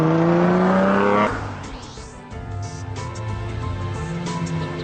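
Ferrari sports car engine revving high, then dropping sharply as the gear changes, settling into a lower steady drone with faint background noise; loud and close, heard from inside the car.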